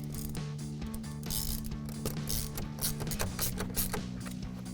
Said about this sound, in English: we'll just tighten that down to hold it in place. And again, we're using our 12mm socket.